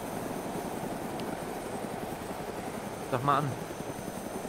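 Steady helicopter rotor and engine drone in the DayZ video game, a constant low hum carrying on under a brief spoken remark.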